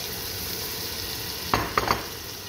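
A spoon scrapes a pan of shrimp kabsa three times in quick succession as tomato is stirred in, set over a low, steady sizzle with no voices.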